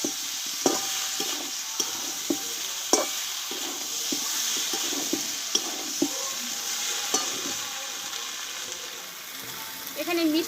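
Unripe jackfruit being sautéed with spices in a pan, repeated close spatula scrapes and taps in an uneven rhythm over a steady soft sizzle, with a brief louder swirl near the end.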